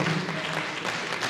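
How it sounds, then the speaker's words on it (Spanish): Group applause at a meeting, a brief dense patter of many hands clapping together, steady and moderately loud throughout the short burst. "yo les pido un fuerte aplauso para todos nosotros"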